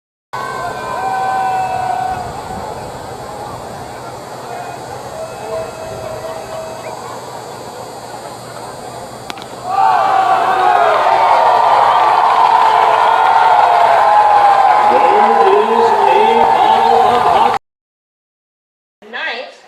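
A baseball crowd in the stands erupts into loud, sustained cheering and shouting after a strikeout in a SLO Blues versus OC Riptide game, rising sharply midway and holding steady for several seconds before cutting off.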